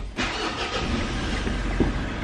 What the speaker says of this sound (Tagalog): Start mo na yung sasakyan.